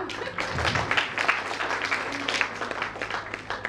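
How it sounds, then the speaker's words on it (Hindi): Audience at a kids dance competition claps in a loose, moderately loud burst, uneven hand claps with some crowd murmur mixed in. "तालियां तालियां"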